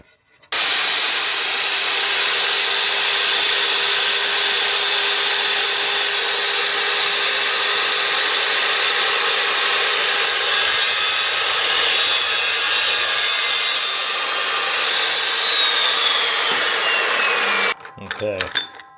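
An Evolution S355MCS metal-cutting saw whines at high speed, running loud and steady as it slices through thin material, with the pitch shifting during the cut before winding down abruptly and giving way to brief clatter.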